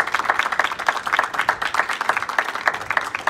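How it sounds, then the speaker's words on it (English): A small crowd at a Rhode Island Juneteenth gathering on rental relief claps in a brisk, steady round of applause, fairly close and loud, with no talking over it. "a round of applause for that"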